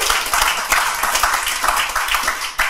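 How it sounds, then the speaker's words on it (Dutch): Brief warm applause from an audience at a Dutch political debate evening, a few seconds of fairly close clapping with a distinct rhythmic patter and no talk. "Ik vind het een warm applaus waard"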